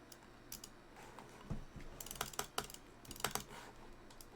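Keyboard and mouse clicking while Bloons TD6 is played, sparse close clicks that turn into brisk clustered bursts of taps, with nobody speaking.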